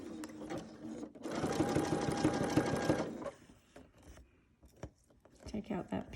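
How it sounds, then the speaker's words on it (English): A sewing machine stitches a fabric face mask in a quick, steady run of needle clatter lasting about two seconds, followed by quieter handling rustles and taps. "I'm gonna sew"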